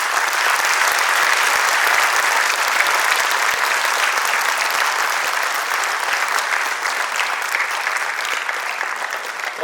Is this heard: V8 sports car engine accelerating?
no